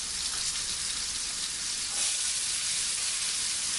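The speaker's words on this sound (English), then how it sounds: "So, to my pot, I'm going to add my onion." Chopped onion going into a hot pot for red beans, a dense, steady close sizzle that swells slightly partway through and keeps hissing alone.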